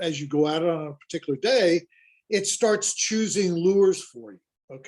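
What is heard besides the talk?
No everyday noise stands out behind the speech.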